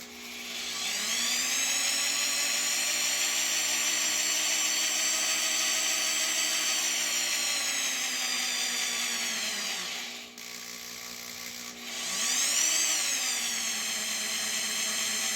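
A power drill whines steadily at high pitch for most of the clip, briefly cutting out twice and spinning back up, with no talking.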